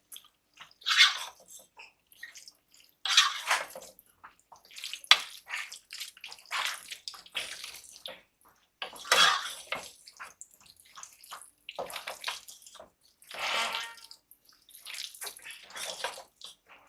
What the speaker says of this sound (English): So we are going to stir it.